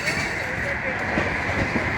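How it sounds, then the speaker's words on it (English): Train rolling along tracks beneath a bridge, a tanker train among them: a continuous loud rumble with faint rhythmic clatter, people talking over it. "There's a train right behind this one right here."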